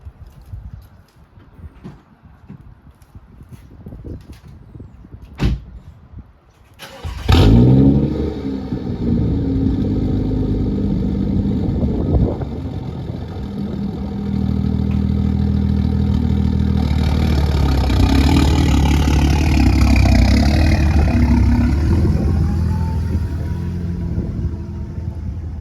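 A BMW F30 335i with a welded straight-pipe exhaust idles loudly and steadily nearby after a few clanks, with a deep rumble that swells slightly toward the end.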